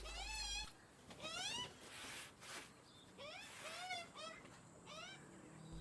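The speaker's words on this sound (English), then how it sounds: "That noise is an adolescent magpie." Adolescent magpie calling beside a timber deck: repeated warbling, whiny rising-and-falling cries in short bursts, fairly faint and distant, with a low background rumble.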